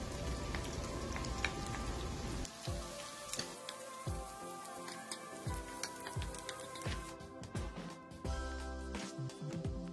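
Chopped onion and garlic sizzle steadily in a hot pan for a pasta sauce, a close, continuous crackling fry with occasional stirring scrapes.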